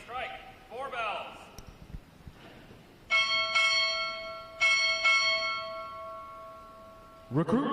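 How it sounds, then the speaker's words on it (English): Ship's bell struck for four bells at a Navy Recruit Training Command graduation ceremony, two pairs of clear ringing strikes in a large hall, with spoken commands before and after. "Time orderly, strike, 4 bells."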